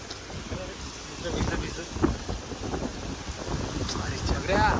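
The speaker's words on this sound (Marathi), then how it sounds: "कसला वादळ वारा आहे रे." Strong stormy wind roars and buffets the microphone in a steady broadband rush that swells and gusts throughout, with voices talking underneath.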